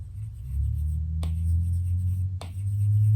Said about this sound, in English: get the paper-like screen protector. It feels like paper, plus it gives the best ASMR, like listen to this.